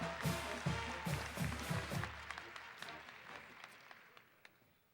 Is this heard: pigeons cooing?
no